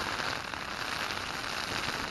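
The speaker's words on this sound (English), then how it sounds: "Pea-sized hail." Pea-sized hail drums on a tent during a windy lakeside storm at Sunset Lake, a dense, steady, close patter of tiny impacts across the fabric with no talking.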